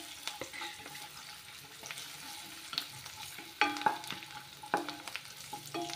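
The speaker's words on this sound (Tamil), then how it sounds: "பாதாமும் கேஷ்யூ நட்டும் கொஞ்சம் பொரிஞ்ச உடனே கிஸ்மிஸ் ஆட் பண்ணிக்கோங்க" Cashews, almonds and raisins fry in a pan for rava laddu, a soft quiet sizzle under frequent clinks and scrapes of a spoon stirring against the metal, the stirring getting sharper partway through.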